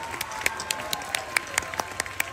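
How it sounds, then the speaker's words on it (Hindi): Sparse, scattered hand claps from an audience at a school annual function in Burewala, faint and uneven, with individual claps popping out over a quiet room background. "खुले दिल से बजाएं, कोई फतवा नहीं लगेगा, तालियां बजाएं,"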